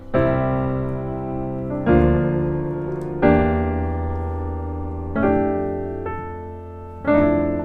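Piano walk-up chord progression in C, first part: five full chords struck one after another at an unhurried, slightly uneven pace, each ringing out and decaying before the next, played solo with no talking.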